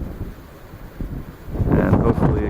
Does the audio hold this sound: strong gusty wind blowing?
yes